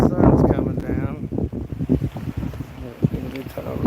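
Gusty wind buffets the microphone at a riverside catfishing spot around sunset, a low rumbling roar that rises and falls continuously for the whole stretch.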